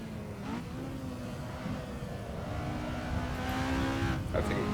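A race car engine in a driving game at Bathurst holds a steady high-pitched drone that climbs and strains near the rev limiter, loud and continuous with a faint voice underneath.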